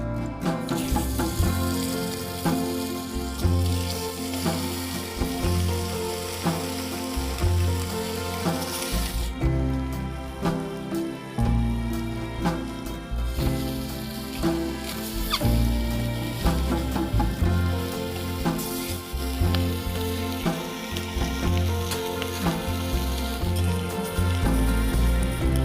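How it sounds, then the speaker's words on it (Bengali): Eggs fry in hot mustard oil in a wok, giving a steady loud sizzle and crackle that runs continuously with brief lulls and no voices. "এবার ডিমগুলোকে আমি ভেজে নেব।"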